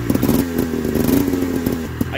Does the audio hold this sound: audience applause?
no